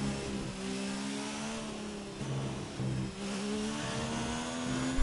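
A Ferrari race car engine in an F1 video game, a steady mid-pitched drone that rises and falls as it revs, moderately quiet and continuous with no talk.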